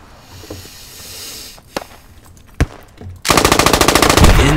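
Machine gun fire in the game Squad, laying down covering fire on a hill during a 72-player firefight: a few scattered shots and distant bursts, then a loud, sustained rapid stream of close automatic fire to the end.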